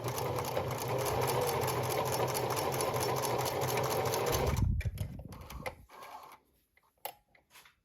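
Sewing machine stitching a slipper seam, a loud, fast, steady mechanical run for several seconds that stops abruptly, followed by a few faint handling clicks.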